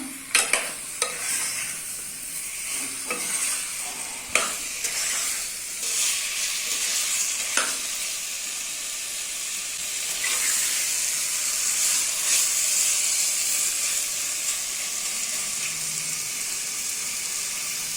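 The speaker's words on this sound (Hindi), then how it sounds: "चिकन को अच्छे से मसालों के साथ मिक्स करना है" Chicken sizzles steadily in a pan with spices as it is stirred, giving a loud continuous hiss marked by scraping utensil strokes near the start. Nobody talks.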